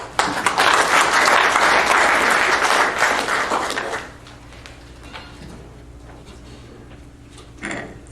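Audience at a senior awards day program claps steadily for about four seconds, then the applause drops away to a quiet room with faint shuffling and a small knock near the end.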